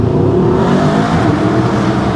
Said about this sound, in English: Oh, that's some proper AMG V8 noises.